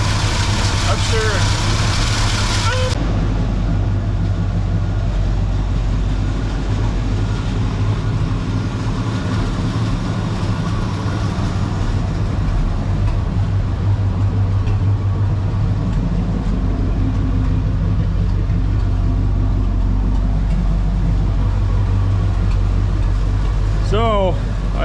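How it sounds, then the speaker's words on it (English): A 1960 Chevy K10 4x4 truck engine idles steadily and loudly, with a constant low rumble lasting throughout. "It idles okay just when it gets under load"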